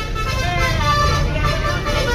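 Musical telolet horn tones from a passing bus ring out over a noisy crowd and engine rumble at a roadside stop in Ciamis, with people talking throughout.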